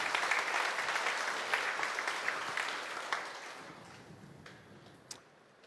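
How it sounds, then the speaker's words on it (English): A congregation gives a round of applause to the Lord during a sermon, steady crowd clapping that gradually fades into a few scattered, isolated claps before dying away. "Can we give our Lord a big, big round of applause?"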